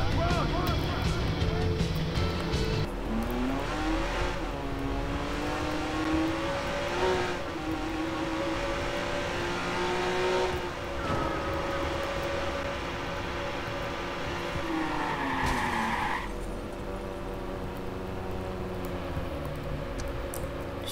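A Lamborghini-style sports car in the Watch Dogs video game drives with a steady engine drone and shifting revs, and a tire skid may be heard under continuous talk.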